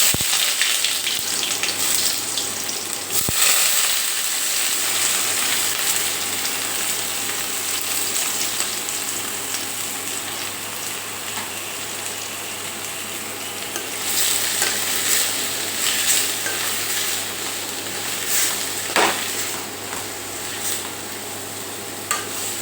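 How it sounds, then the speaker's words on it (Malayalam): Chopped vegetables tossed into hot oil with spluttering mustard seeds while an egg curry is prepared, giving a steady, close sizzle and fry with occasional stirring scrapes throughout, no talking. "എണ്ണ ചൂടായിട്ടുണ്ടെങ്കിൽ നമുക്ക് ഇതിലേക്ക് കടുകിടാം ഇനി ഇതിലേക്ക് അരിഞ്ഞു വെച്ചിരിക്കുന്ന പച്ചക്കറികളും"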